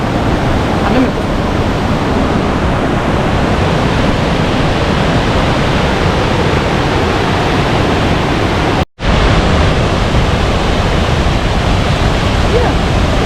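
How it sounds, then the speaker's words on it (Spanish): A large waterfall in Norway roars as a steady, loud broadband rush, broken by a brief dropout near the end before resuming. "Ah, sí, una cascada grande."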